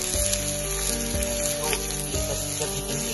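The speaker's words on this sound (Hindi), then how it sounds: "इसको हमने फ्राई करना है अच्छे से, फ्राई करेंगे।" Eggplant slices fry in hot oil, giving a steady, close sizzle with a low hum beneath it and no break in the sound.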